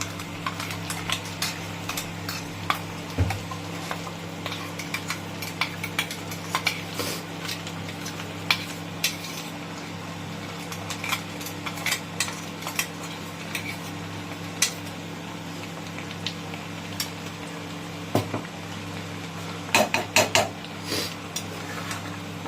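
Ground spice paste stirred into chicken curry in a pan: repeated scraping and clinking of a spoon against metal, irregular and close, over a low steady hum, with no talking.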